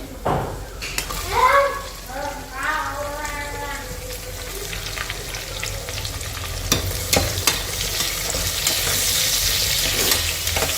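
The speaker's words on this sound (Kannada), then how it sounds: "ನೆಕ್ಸ್ಟ್ ಇದಕ್ಕೆ ಆನಿಯನ್ ಹಾಕ್ಕೊಳ್ತಾ ಇದ್ದೀನಿ." Onions for biryani hiss and sizzle loudly in a hot pan, close up. Steady frying runs throughout, with spoon scrapes and clatter. A person talks briefly over the sizzle early on.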